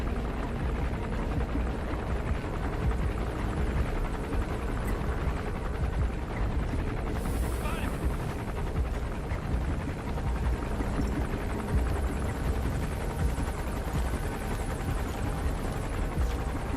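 An enemy helicopter gunship in the video game Metal Gear Solid V: The Phantom Pain, its rotor thrumming steadily and loudly throughout, a constant heavy drone that never fades.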